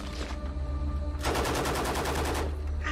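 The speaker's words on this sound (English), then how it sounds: "Sarah reported that the gunshots were coming from bandits attacking" Heavy automatic gunfire from bandits in a post-apocalyptic survival game erupts as a dense, rapid burst of shots, loud and sustained for over a second over a steady low ambient rumble.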